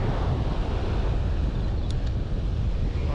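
Ocean waves wash onto a fishing beach, a steady loud roar of surf mixed with heavy wind buffeting the microphone, continuous without breaks.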